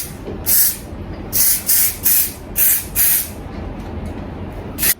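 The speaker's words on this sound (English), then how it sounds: "That's why I'm using the holding spray for it." Hair holding spray sprayed from an aerosol can onto hair set in Velcro rollers, six close sharp hissing bursts in a quick irregular rhythm, each about a quarter second, with no talking.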